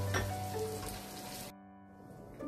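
Potatoes for poha fry in a pan with a continuous, moderate sizzle that suddenly drops away to near quiet halfway through, returning faintly at the end.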